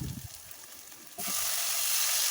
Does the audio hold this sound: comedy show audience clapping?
no